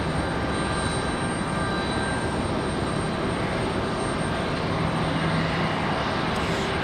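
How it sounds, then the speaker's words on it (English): An Airbus A220 jet arriving from Boston at Raleigh Durham airport roars as a broad, steady engine wash with faint high whine, moderately loud and unchanging across the stretch. "So here's our A220 from Boston."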